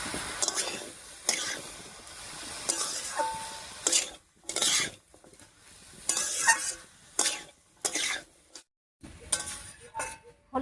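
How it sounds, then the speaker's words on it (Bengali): A spoon stirs bottle gourd with turmeric and salt in a frying pan, giving repeated bursts of scraping and clinking over a soft sizzle, with short pauses between strokes. "হলুদ লবণ দিয়ে লাউটার সঙ্গে খুব ভালো করে মিশিয়ে নিয়েছি"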